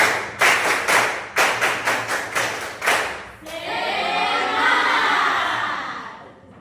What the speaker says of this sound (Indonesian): Tepuk tangan semangat belajar.